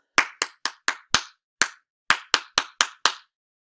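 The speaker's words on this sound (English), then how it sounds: "So I'm going to clap one of those rhythms, and then you're going to tell me which one it is." Eleven sharp hand claps beat out a sixteenth-note rhythm, spaced in two quick clusters with a pause between, close and dry with no talking.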